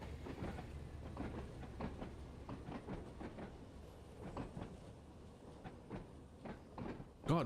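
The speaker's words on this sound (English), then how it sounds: "You can hear the brake now." A train slows to a stop at a short platform, with rhythmic clickety-clack of wheels over rail joints and a rising metallic brake squeal at the end, heard from inside at moderate volume.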